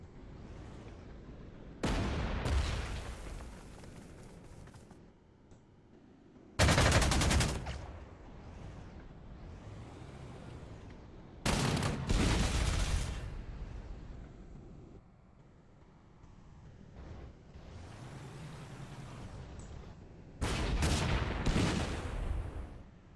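Artillery fire in the World War II strategy game Panzer Corps 2 during Operation Barbarossa, several loud booming salvos in separate bursts with rumbling tails between them.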